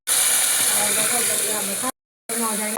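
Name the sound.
pressure cooker releasing steam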